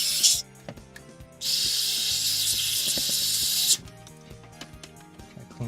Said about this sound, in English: I want to spray some of this in here